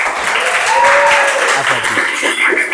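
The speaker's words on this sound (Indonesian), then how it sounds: "Tepuk tangan untuk" Audience applause at a classroom-style motivational session, a steady wash of clapping filling the room throughout, with some voices and chatter mixed in underneath.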